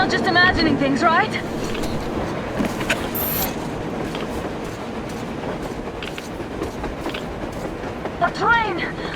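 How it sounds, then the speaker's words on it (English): A train rumbles past in the video game Metro Exodus, a steady rolling roar with clattering bursts lasting several seconds, while characters shout excitedly over it near the start and end. "A train! Look!"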